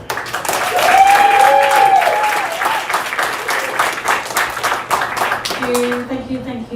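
Audience applause welcoming a speaker at a LinkedIn Local meetup in Toronto, loud, steady clapping swelling early and fading toward the end, with a voice starting to speak as it dies down.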